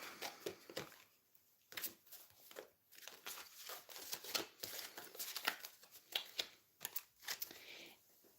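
Tarot cards are gathered and shuffled by hand, a series of soft, close riffling bursts and quick flicks in uneven rhythm, fairly quiet with no talk.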